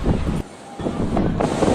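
Cold wind by the sea gusts and buffets loudly against the microphone, a rough, rushing roar that drops briefly before surging back.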